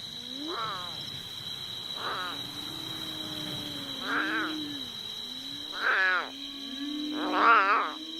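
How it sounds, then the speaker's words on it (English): An abandoned lion cub cries at night in the wild, giving five plaintive rising-and-falling wails spaced a few seconds apart, the last ones louder, over a steady high insect drone. "The plaintive cries of the abandoned lion cub echo through the night."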